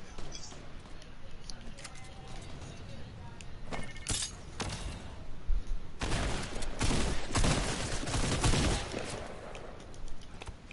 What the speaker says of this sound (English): Who's shooting? What the hell is shooting?